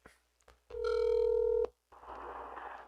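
A phone places a call back: a short beep and a sustained electronic tone sound clearly, then a hissing burst of line noise follows after a brief pause.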